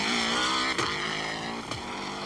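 A 1994 Monte Carlo Rally car revs loudly and continuously close by as it brakes into a tight corner, with two brief downshift dips in the engine note.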